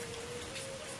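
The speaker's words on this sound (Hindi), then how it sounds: "बारिश आ गई" Steady rain pours down in a Hindi cartoon, a dense, even hiss of falling drops with no break, heard alone with no voices.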